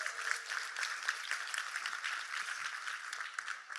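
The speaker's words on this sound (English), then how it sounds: "So you guys give yourself a round of applause as well." Audience at a martial arts industry gathering applauding, a sustained, even wash of many hands clapping that fills the whole stretch without talk.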